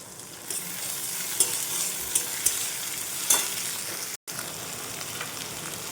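Chopped tomato and green chili frying in a pan with a steady loud sizzle, punctuated by a few sharp spatula scrapes and stirring clicks, with a brief dropout near the end.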